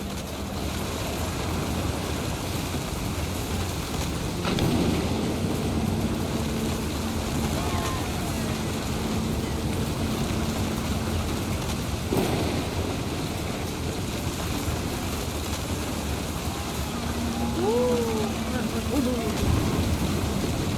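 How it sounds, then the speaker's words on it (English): Thunder and steady rain from the video game What Remains of Edith Finch, a continuous rushing downpour with a low rumble swelling near the five-second mark and again toward the end, with faint tonal sounds drifting over it. "Thunder sounded much too close and full of angry power."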